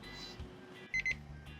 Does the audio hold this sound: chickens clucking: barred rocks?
no